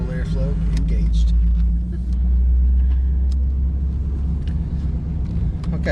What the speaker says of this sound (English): normal acceleration seems like it's shifting fine